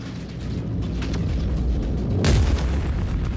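A missile explosion in the video game Star Citizen lands as a deep, loud boom with a rumbling tail, rising out of a steady low background drone of the space combat.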